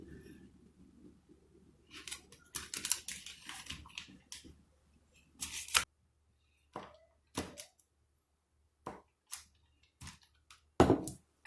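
A knife cutting through sticks of butter on a board for a peach cobbler, making a series of separate crisp cuts and taps with quiet gaps between them, close and fairly soft.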